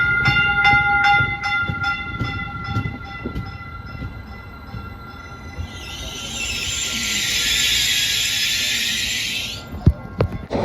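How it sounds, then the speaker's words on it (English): A Caltrain electric passenger train rumbles past close by with rhythmic clatter and a ringing bell, then a long, loud hiss of air before it settles. "let's go ahead and check out the new trains"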